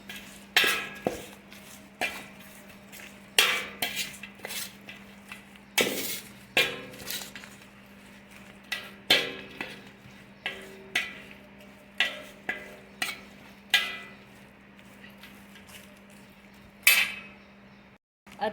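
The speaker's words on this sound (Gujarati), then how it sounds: "દિવેલ નાખ્યા પછી એની અંદર આપણે બધો મસાલો મિક્સ કરી દઈએ." Spices are stirred into oil in a metal pot for pickle, giving repeated sharp clinks and knocks of a spoon against the pot at irregular intervals under a low steady hum.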